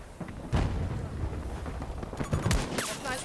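Battlefield 2042 gunfire in a match: several loud cracks and booming shots over a dense rumble of battle, with a quick burst of rapid fire near the end and no talking.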